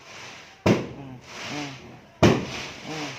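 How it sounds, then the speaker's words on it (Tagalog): Fireworks and firecrackers burst on New Year's Eve, two sharp loud blasts followed by crackling and distant pops, with a brief murmured voice. "Daming paputok, ano?"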